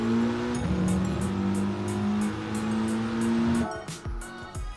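A race car in GT Sport accelerates hard out of a corner at Tsukuba Circuit, its loud engine rising steadily with a gear change and some tire noise near the end.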